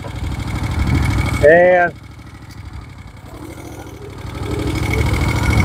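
A 1972 Moto Guzzi Eldorado police motorcycle with a big bore kit bringing it to 1000cc idles nearby with a steady low rumble, while someone speaks briefly over it.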